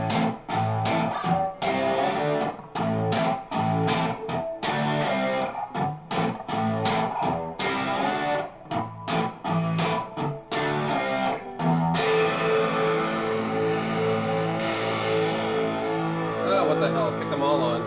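Electric guitar pushed through heavy distortion on the amp's second channel, played in loud, choppy bursts of chords. A sustained, ringing passage follows near the end.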